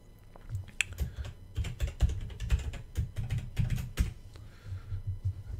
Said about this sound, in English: Let's try and type the password in properly.